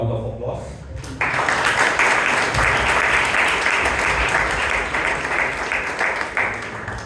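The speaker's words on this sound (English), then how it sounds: "both the speaker as well as the evaluator deserve a round of applause" Members at a Bangalore Toastmasters club meeting break into applause after a brief opening with a voice, then clap steadily and loudly for several seconds.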